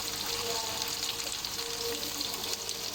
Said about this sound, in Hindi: एक एक करके हम चिकन पीसेस की साइड चेंज कर लेंगे।